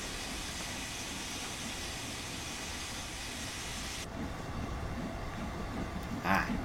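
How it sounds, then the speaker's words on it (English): In a video game, a steady, loud hissing rush of steam from a steam locomotive's fully open large injector fills the scene over a rumbling train, the hiss thinning abruptly partway through while the rumble continues. "That is the sound of my large injector being fully open."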